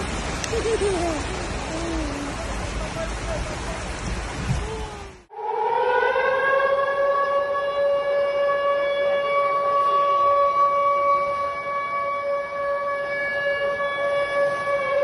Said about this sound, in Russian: Пустили сирену.